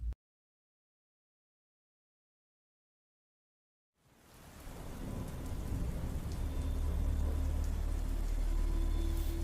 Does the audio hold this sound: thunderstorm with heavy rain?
yes